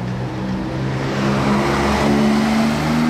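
Cars on a seaside street, a steady engine drone with rising revs as vehicles pass close by, continuous and fairly loud with no talking.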